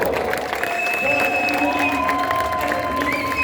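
Steady applause from a crowd at the 24 Hours of Le Mans open track day, continuous clapping and some cheering under a loud, noisy ambience.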